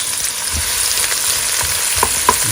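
Chopped goat lungs fry in a pan with a steady, dense sizzle, and a few faint utensil taps and stirs break through the constant crackle.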